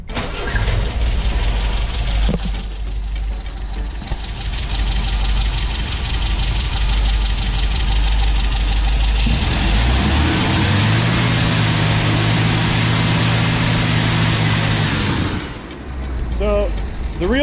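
An MGB engine with a newly replaced SU HIF4 carburettor float cranks and catches around nine seconds in. It then settles into a steady, close idle, with a fuel pump running beforehand. The engine cuts off near the end.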